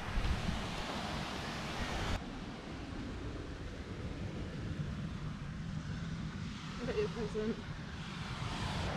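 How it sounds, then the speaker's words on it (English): Steady broadband rush of sea waves on the shore, constant and fairly loud throughout, with wind buffeting and a person talking briefly near the end. "Nice being by the sea though,"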